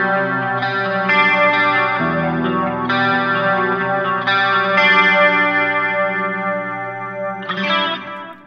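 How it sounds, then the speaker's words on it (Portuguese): Marshall-style electric guitar chords and notes ring out through a warm delay, each phrase trailing soft repeats that blend smoothly, sustained and close, with no talking. "como ele é um delay mais quentinho, ele só preenche e não embola"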